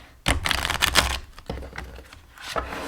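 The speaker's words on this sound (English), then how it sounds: "I'm also gonna do the riffle shuffle" A deck of mermaid tarot cards riffle-shuffled by hand, giving a dense burst of quick flicking card clicks followed by softer scattered taps and a second ripple of cards, close and clear with no talking.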